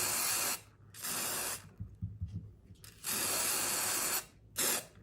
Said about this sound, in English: open up your can of spray and just give it a coat